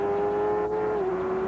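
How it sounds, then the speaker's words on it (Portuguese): A 1993 IndyCar race car at the Mid-Ohio Grand Prix holds a loud, sustained engine note at high revs, close and steady with a slight pitch drop near the end, no talk over it. "Esse é o trabalho do motor forte do Raul Boesel."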